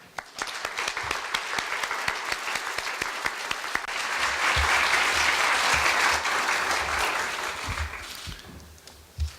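A lecture hall audience at Korea University applauds to welcome UN Deputy Secretary-General Jan Eliasson, sustained dense clapping from many hands that swells midway and then tapers off.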